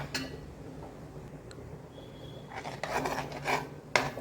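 Ladies finger (okra) kichadi with curd stirred in a pot, a soft rasping, scraping rub of spoon against the pot, faint at first then several louder strokes toward the end.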